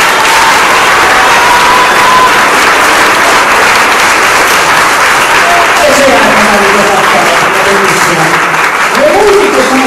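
Dense, steady audience applause after a theatre performance, loud and sustained for the whole stretch, with a voice speaking over the clapping.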